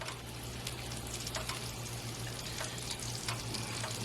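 Onions and carrots frying for a beef stir fry give a steady, moderate sizzle with faint crackles throughout, and no one speaks over it.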